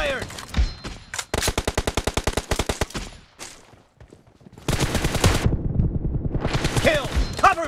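Automatic weapon fire in the video game PUBG during a team deathmatch: a few scattered shots, then a fast, evenly spaced burst of about twenty rounds, a brief lull, and a loud, sustained volley near the end.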